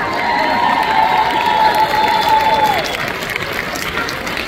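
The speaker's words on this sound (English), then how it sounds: "You deserve a round of applause." Theatre audience at a Joseph sing-along bursts into steady applause and cheering, a dense crowd roar with whoops and a sustained shouted tone riding on top for several seconds.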